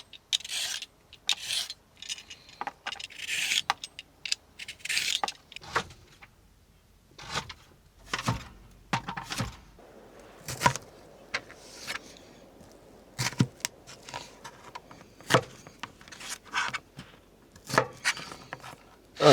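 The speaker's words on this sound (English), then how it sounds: "peeling and julienning these carrots and then chopping up this cucumber" Carrots peeled and julienned and a cucumber chopped in a van kitchen in the forest, with irregular scraping strokes followed by sharp knife taps in uneven bursts, close and fairly quiet with no talk.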